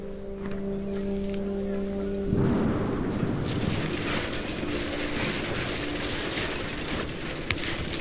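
A thunderstorm in What Remains of Edith Finch roars in as steady heavy rain with rumbling thunder. A low tonal hum comes first, then a sudden loud surge of dense downpour that stays constant throughout.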